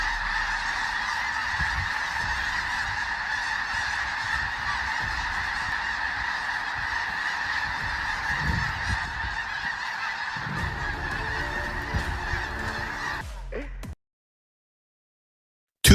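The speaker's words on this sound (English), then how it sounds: "Thousands of birds swarmed across the sky, blanketing the entire area in a massive," Geese honking in a huge swarming flock across the sky, a dense, continuous chorus of overlapping honks that holds steady and loud before cutting off abruptly into silence.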